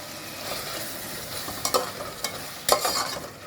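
Ginger, garlic and green chili paste sizzles and crackles steadily in a hot pan, with a few louder stirring scrapes breaking through the constant frying hiss.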